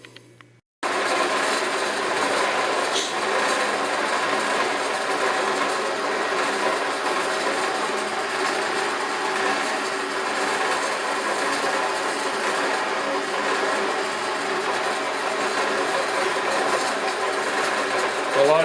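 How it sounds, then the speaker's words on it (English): A drill bores partway into MDF sheet during a DIY speaker cabinet build, producing a loud, continuous whirring drone that holds steady for about eighteen seconds after starting abruptly. "I'll have to set the drill up so that it goes down, you know, it doesn't go all the way through."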